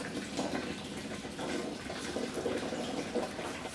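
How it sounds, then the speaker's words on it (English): Motor oil draining from a car engine's drain plug opening into a drain pan, a steady, soft splashing pour that runs on without a break. "While the oil is draining"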